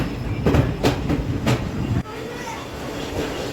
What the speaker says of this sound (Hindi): शाम के 7:16 पे सुपौल स्पेशल ट्रेन आई है छपड़ा जंक्शन पे